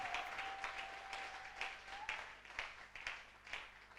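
A church congregation in Cameroon claps and cheers in acclaim of Jesus, a close, lively burst of rhythmic applause that carries on for a few seconds.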